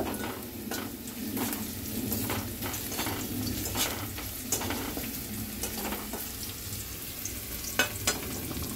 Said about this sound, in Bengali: আদা কুচি আর পেঁয়াজ কুচি দিয়ে একটু নাড়াচাড়া করব